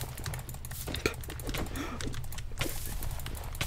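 Rapid mouse spam clicking during a Minecraft SMP server fight, a steady run of quick close clicks and taps with a brief lull, set against continuous low game background noise.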